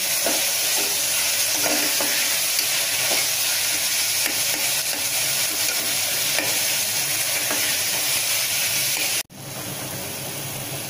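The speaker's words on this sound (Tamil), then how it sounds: "வெங்காய தக்காளிலாம் இப்போ நல்லா வதங்கிடுச்சு." Onions and tomatoes dusted with turmeric sauté and sizzle steadily in a pan for a Tamil-style potato kurma, with light stirring scrapes throughout, until the sound cuts off abruptly near the end.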